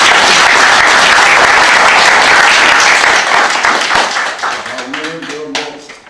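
An audience applauds loudly with dense, steady clapping that fades away over the last couple of seconds as a voice starts speaking.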